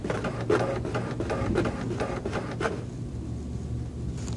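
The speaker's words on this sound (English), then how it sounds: "The densitometer will immediately send the data information over to the printer" A small report printer attached to an X-ray film densitometer for quality control runs a rapid mechanical chattering print pass for a few seconds, then stops, leaving a faint hum.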